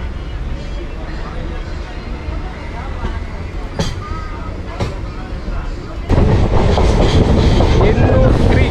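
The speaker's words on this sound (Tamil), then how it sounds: "இப்போது இந்த ட்ரெயின் நிற்கிறது தாங்க எண்ணூர் ரயில்வே ஸ்டேஷன்." Chennai suburban train at Ennore railway station, its steady loud rumble and carriage noise filling the clip and swelling sharply louder near the end, with brief clanks along the way.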